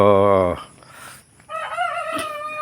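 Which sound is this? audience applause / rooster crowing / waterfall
rooster crowing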